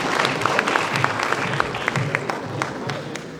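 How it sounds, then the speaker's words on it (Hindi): Light, scattered applause at a university convocation ceremony at a law university in Jaipur, with distinct individual claps from a modest crowd over a murmur of voices. "तालियों को शोर करने देना चाहिए प्लीज"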